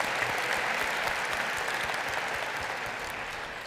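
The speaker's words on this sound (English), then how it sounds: "I think we should give everybody a clap" Steady applause from the audience at a university installation ceremony: a broad, continuous patter of many hands, slowly easing in loudness toward the end.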